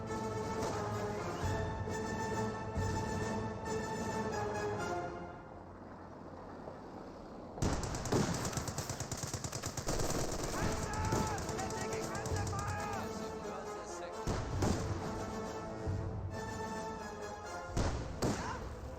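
Rifle grenades and gunfire in a Company of Heroes 2 battle: heavy thuds and muffled explosive bursts over dense background combat noise, with a voice talking over parts of it.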